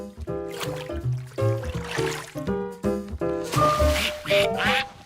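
Ducks quack in quick, overlapping bursts against lively background music, loud and close with no talking.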